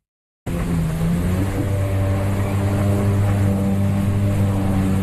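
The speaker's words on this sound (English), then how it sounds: "Jet ski." Jet ski engine droning steadily on the water, starting abruptly and holding a constant humming pitch, close and fairly loud with no talk.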